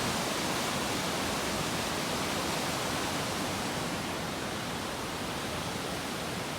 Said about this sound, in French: Donc ici, je vous montre la rivière qui est presque un fleuve.